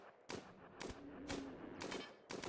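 Machine gun fire in the video game Rimworld sounds as several short, sharp bursts of rapid shots at irregular intervals, loud against a low background hum.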